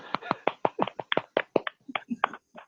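A single participant in an online meeting claps, about fifteen close, crisp claps in an uneven quick rhythm, heard alone.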